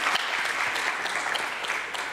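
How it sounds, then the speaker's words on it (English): A brief stretch of audience applause welcoming a speaker at a ministerial visit event, steady crowd clapping at moderate loudness with no talk. "Can we please give him a big round of applause?"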